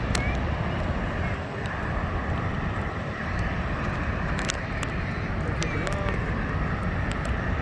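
An airliner roars through takeoff from LAX runway 24R, a continuous loud, broadband engine rumble mixed with wind buffeting on the microphone, while people talk nearby.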